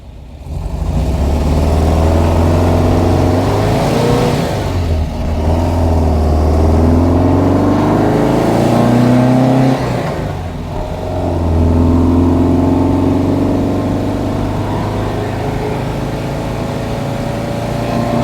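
Engine of a 1971 VW Type 3 Squareback, a loud, close air-cooled rumble that idles steadily, then rises and falls through several revs before settling back, with no talking.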